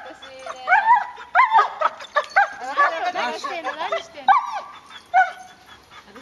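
A dog whines and yips in short, high bursts, close by, while people talk over and between the sounds.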